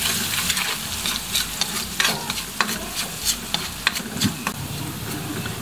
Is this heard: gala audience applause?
no